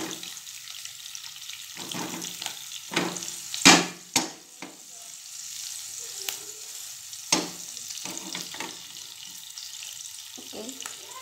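Stuffed baby onions sizzle in oil in a pan on a gas stove as they go in one by one, a steady crackle broken by louder clatters and spatters of the pieces landing and being moved.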